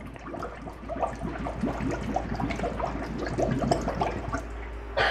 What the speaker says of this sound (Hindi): तो देखिए पानी आ रहा है।